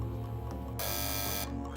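A team presses the buzzer during a live quiz show on personal finance, giving a loud, steady electronic buzz that holds for about three-quarters of a second over a humming hall.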